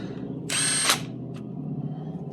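A power drill drives in the longer bottom bolts of a rear differential cover in one short, loud whir of about half a second, followed by a faint click, with a low hum underneath.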